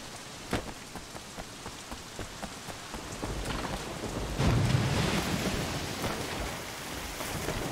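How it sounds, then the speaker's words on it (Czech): Steady rain falls in the video game Sleeping Dogs, a constant hiss with scattered drops and ticks, growing somewhat heavier and louder partway through, with no talking. "Pretože nestačí, že prší"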